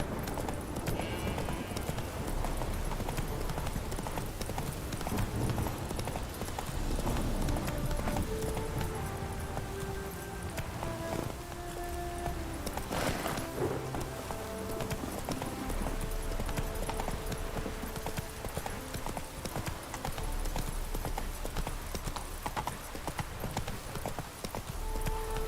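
Roach the horse gallops in The Witcher 3, a continuous quick clip-clop of hooves that drums steadily and close for a long stretch, with game music and ambience running underneath.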